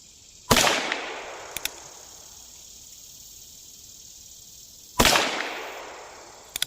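Two sharp, loud gunshots from a new Ruger Super Wrangler revolver, spaced about four seconds apart, each with a decaying echo tail, plus a few faint clicks between them and no talk.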